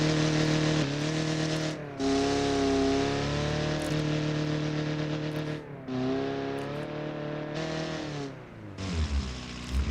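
The engine of a Baja competition off-road buggy drones steadily and loudly up close, with harmonic tones that rise and fall through several short revving surges and cut out briefly.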